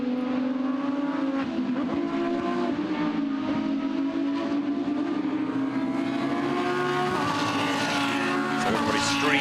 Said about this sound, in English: And the engine is fired up.